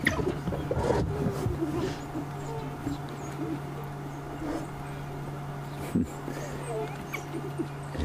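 African wild dogs call to each other with high, bird-like twittering chirps and yips, scattered through a busy outdoor safari scene with faint engine hum and some talk.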